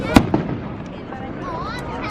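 Fireworks bursting over the River Mersey in Liverpool on Bonfire Night, with two sharp pops early on followed by a steady murmur of crowd noise and distant crackle.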